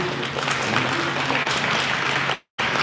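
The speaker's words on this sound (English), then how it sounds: "Everybody give a round of applause for Jeremy being brave" An audience applauds and cheers for a person at a community ceremony, dense steady clapping that holds loud, cuts out briefly near the end, then resumes.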